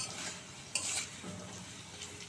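Potatoes frying in a pan while cooking a cabbage and hilsa-head dish, a steady soft sizzle with a brief brighter hiss and a stir near the start, moderately quiet and without talk.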